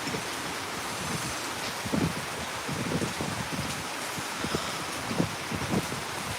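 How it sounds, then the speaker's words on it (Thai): Steady rain falls as a dense, even hiss mixed with gusty wind rumble, with no voices and no clear drops standing out. "ก็ฝนตก"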